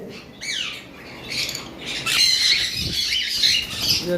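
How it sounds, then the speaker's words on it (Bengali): Cockatiels kept on a high shelf in a breeding setup squawk in shrill, repeated bursts, loud and close, with a busier flurry of overlapping calls in the second half. "উপরে যেই কোকাটেলগুলো রয়েছে"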